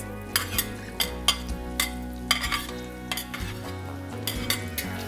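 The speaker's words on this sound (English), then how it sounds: "And you wanna saute them until they're about halfway done, right before al dente" Diced onion, celery and carrots sautéing in a pot, a steady sizzle broken by repeated sharp scrapes and clinks of a utensil stirring against the metal, close and rhythmic.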